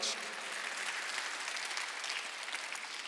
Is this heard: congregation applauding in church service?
yes